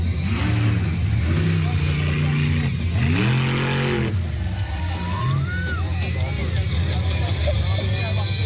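A roughly 1,000-horsepower, four-ton monster truck revs hard on slippery grass at a Nowra, Australia event, its loud engine surging and easing under an excited commentator's voice.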